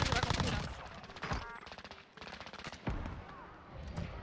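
Rapid gunfire in the zombie mode of the video game Warzone, with bursts of close, loud shots repeating over several seconds, mixed with game effects and other noise.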